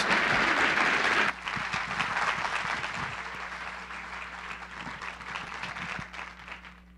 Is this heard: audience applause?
yes